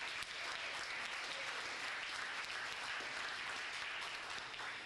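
High school spring sports banquet audience applauds, a continuous, even roar of many hands clapping at moderate distance, holding steady for the full few seconds without talk.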